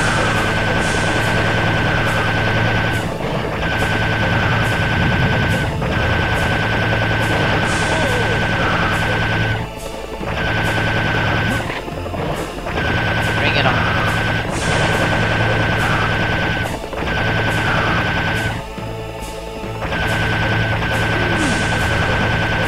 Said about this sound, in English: Hey, the laser gun works now.